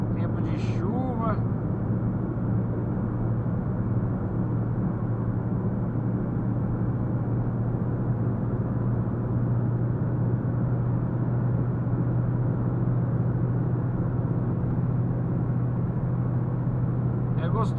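A car drives along a São Paulo road toward the airport in rainy weather, heard from inside as a steady, low engine and road rumble throughout, with no gaps.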